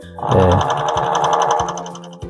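A freshly threaded overlock sewing machine runs steadily up close for a couple of seconds, a loud, even motor whir with a rapid stitching chatter, alone without talk.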